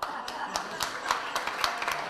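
Brief audience clapping breaks out after a storyteller finishes a folk tale at a lecture on Chinese legends, a scattered run of claps of moderate loudness lasting a couple of seconds.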